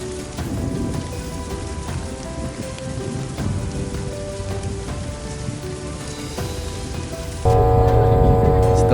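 Heavy rain pours steadily with a dense, close hiss while a ship passes under dark storm clouds, rumbling throughout, and the downpour swells louder near the end.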